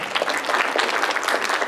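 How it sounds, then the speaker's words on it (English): Audience applause at an anime festival cosplay panel, a close, lively burst of many hands clapping in a steady dense patter for a couple of seconds. "Applause."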